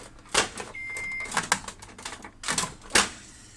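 An HP LaserJet 2727 printer running a copy job gives off irregular mechanical clacks and whirring bursts, with a brief electronic tone partway through. The sounds are close and moderately loud, with no one speaking.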